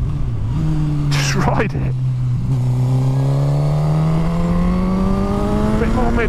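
A Suzuki GSX-R1000 K8 motorcycle engine drones steadily up close, its pitch slowly climbing as it accelerates with slight juddering, while someone talks over it.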